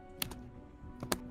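Fingers strike a computer keyboard in two short clusters of quick, crisp keystrokes, close and fairly quiet, with a brief pause between the bursts.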